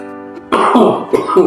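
A person gives a few sharp, close coughs or throat-clearing bursts in quick succession, loud and alone after a brief quiet tone.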